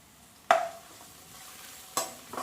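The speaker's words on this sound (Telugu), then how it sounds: "కొన్ని క్యారెట్లు వేసుకోండి ఇవి కొంచెం వేగాలన్నమాట" Carrots and green chillies fry in oil in a pan; two sharp utensil knocks stand out against a quiet sizzle, with a softer tap right at the end.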